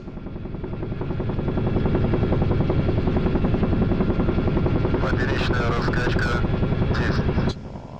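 Helicopter rotor and turbine drone from a DCS combat flight simulator during a descent for sling loading, loud and steady with dense rhythmic blade chop throughout, a few brief higher-pitched tones near the end.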